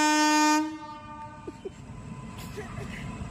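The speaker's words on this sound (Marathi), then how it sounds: "कशी आहे ट्रेन बघ." A passing train sounds a loud, steady horn blast for about half a second, then gives way to a lower, continuous rolling rumble with faint clatter as it goes by.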